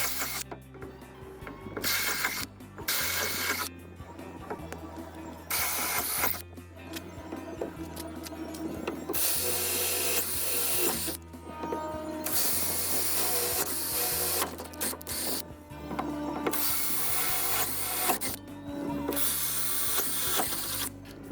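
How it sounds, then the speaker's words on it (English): A reciprocating saw cuts a stereo opening in a boat panel, sounding as repeated bursts of harsh buzzing separated by brief pauses over about twenty seconds, close and fairly loud with no talking. "we decided to use the saw here, the reciprocating saw, for some precision cuts"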